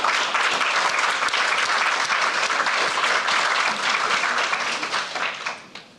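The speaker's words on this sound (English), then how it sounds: "Let's give them another round of applause." A crowd at the Internet Society 25 Under 25 recognition ceremony gives the awardees loud, sustained applause. The dense clapping holds steady and then fades out over the last second.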